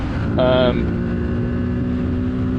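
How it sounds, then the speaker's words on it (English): A stock-exhaust Kawasaki Z650 motorcycle is ridden under power, its engine giving a steady buzzing drone with a brief sharper rise in pitch, heard close amid rushing wind. "when you come on the power here, I love the exhaust note."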